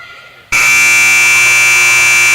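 A loud, sustained electronic buzzer from an adjacent basketball court in a gym suddenly kicks in after a moment of quieter room noise, holding a steady harsh tone to the end.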